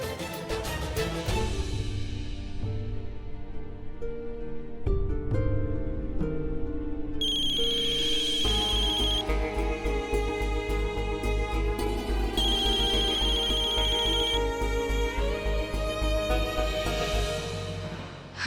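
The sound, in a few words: telephone ringing unanswered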